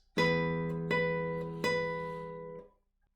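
Three plucked guitar notes, each ringing out and slowly fading, the last sustaining longest before dying away into silence.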